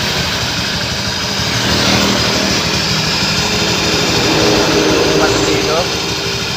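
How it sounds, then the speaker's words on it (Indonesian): A Honda motorcycle engine runs with a rough, buzzing drone from a worn clutch bearing, loud and constant throughout, with someone speaking over it. "Ini kelar askernya yang bunyi."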